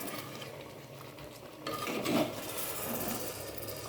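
Chicken is stirred and mixed in a cooking pot, with soft scraping and clinking of a utensil against the pot that grows a little louder partway through, heard fairly faint and close.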